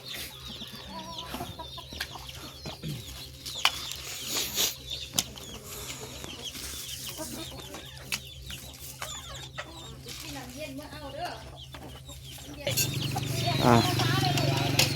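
Chickens cluck and flap their wings around a rural Thai home, scattered sounds under ongoing nearby chatter and background noise, with a louder low hum swelling near the end.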